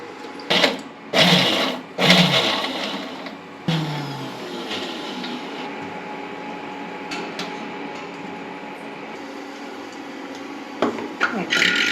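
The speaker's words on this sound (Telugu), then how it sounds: "పచ్చిమిర్చి మిక్సీ పట్టు" A kitchen mixer grinder pulses green chillies with raw onion, garlic and sesame powder in short bursts, then runs in a steady, close whirring grind for several seconds before stopping.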